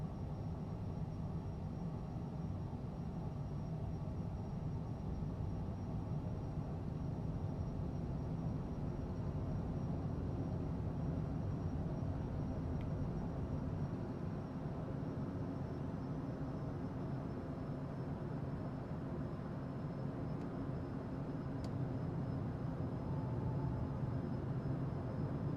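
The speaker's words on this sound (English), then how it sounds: "All right, I'm taking off." A Cessna light airplane in the Tailstrike flight game drones steadily through its takeoff run, a constant engine rumble holding at an even moderate level throughout, with no talking over it.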